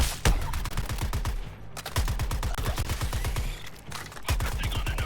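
Rapid automatic gunfire rattles in the Suicide Squad: Kill the Justice League video game, dense bursts of shots rolling almost continuously with brief gaps, loud and close, over a busy combat backdrop.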